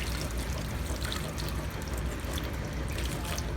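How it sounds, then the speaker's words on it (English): Hot water is poured over tamarind for juice, a steady, close splashing pour that runs unbroken at an even level with no gaps. "now I'm going to pour the hot water on here"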